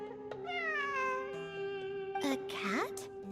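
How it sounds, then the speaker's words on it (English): A video game cat gives a long, wavering meow, then a shorter rising one, close and clear with a voice underneath. "It really is a cat."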